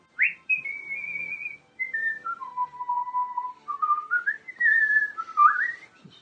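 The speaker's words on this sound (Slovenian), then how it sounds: "Celo tako dobre volje je bil, da si je zažvižgal pesmico." A person whistles a cheerful little tune alone, a clear melodic line of sliding, held notes rising and falling with short pauses between phrases.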